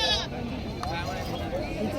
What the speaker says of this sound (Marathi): बकरा आहे मित्रांनो.